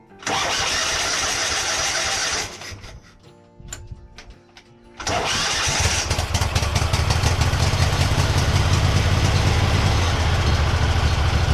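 A Kohler Pro 23 horsepower V-Twin engine cold starts: a loud cranking roar runs for a couple of seconds, cuts out briefly, then the engine catches and settles into a steady, loud running drone.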